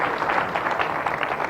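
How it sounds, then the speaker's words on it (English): Applause for a national president at a small factory unveiling function, a steady dense wash of clapping from the gathered audience, loud and continuous for a brief moment. "A round of applause to His Excellency,"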